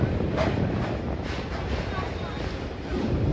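Doon Express train crossing the Ganges near Kashi, a steady broadband rumble and rush of wind and rolling stock heard from onboard, continuous and moderately loud throughout.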